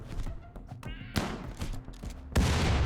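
A grenade blast in a video game lands as a heavy, sudden boom near the end, preceded by a sharp crack and scattered thuds and taps of combat, with a voice speaking in between.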